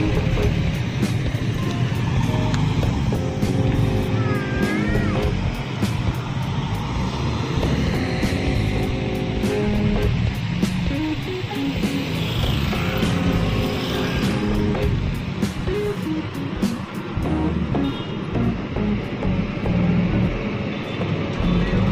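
A Putra Pelangi intercity bus drives fast at night on an eastern route in Aceh, its engine roar and road noise filling the whole stretch continuously, with several horn-like tonal bursts blaring over the steady rumble.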